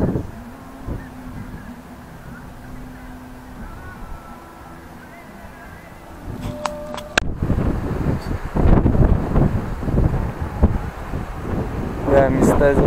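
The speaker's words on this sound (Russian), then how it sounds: "Ветра, значит, здесь постоянно сильные." Strong wind buffets the microphone on a seaside cape in South Vietnam, with mountains on one side and the sea on the other. It starts as a steady low roar, then turns loud and gusty, with rustling and clattering partway through.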